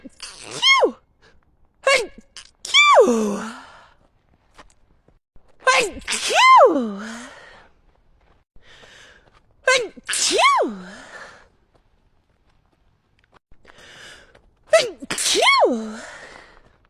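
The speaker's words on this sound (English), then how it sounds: "Just going for a walk, having a sneeze attack midway." A woman out on a walk, suffering from allergies, sneezes in repeated bursts: four sharp, loud sneezes at close range, each with a short intake of breath and spaced a few seconds apart, with quiet pauses between them.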